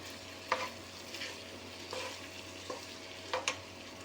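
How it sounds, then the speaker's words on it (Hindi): A spoon or spatula stirs spiced potatoes with turmeric and tomato in a pan, producing soft, sparse scrapes and taps over a faint, steady sizzle, close by and fairly quiet. "इसको बहुत अच्छी तरीके से मिक्स करेंगे और इसको फिर दम आंच पे हम पकाएंगे"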